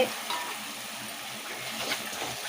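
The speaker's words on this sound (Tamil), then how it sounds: "ஒரு அஞ்சு நிமிஷம் நான் கையூடாக கலந்துகிட்டே இருக்கலாம்" Fig halwa with ghee being stirred in a pan, a steady soft sizzle and scraping churn running continuously and close, with no voices.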